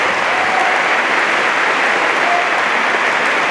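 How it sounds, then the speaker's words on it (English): Steady, dense audience applause fills a freshman orientation closing ceremony, a continuous wash of many hands clapping at an even, fairly loud level throughout with no talk above it. "So let's give a big round of applause to the Student Leadership Council."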